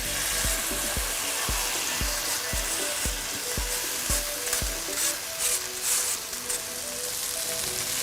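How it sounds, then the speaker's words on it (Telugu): Rice tipped into a pulao pan and stirred through hot oil and vegetables, giving a steady loud sizzle with a run of sharp scraping stirs near the start. "కొంచెం ఇప్పుడు రైస్ వేసుకుంటున్నాను"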